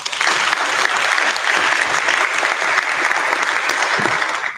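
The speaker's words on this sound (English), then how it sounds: "big round of applause for Charlotte." Steady, loud applause from an audience at a university showcase night fills the whole stretch, an even wash of clapping without pause.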